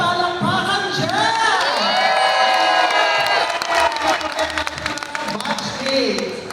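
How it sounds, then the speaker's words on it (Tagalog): A crowd at a batch reunion cheers, whoops and claps loudly and continuously, with shouting voices layered over steady applause. "Pwede ba pong makahingi ng isang malakas na may kasamang hiyawan at palakpakan dyan?"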